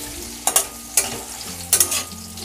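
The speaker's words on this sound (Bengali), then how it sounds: "দিয়ে একটু সময় ভেজে নিচ্ছি।" Grated raw mango fries with nigella seeds in hot oil, a low sizzle under a few sharp scraping stirs of a spatula against the pan, close and alone.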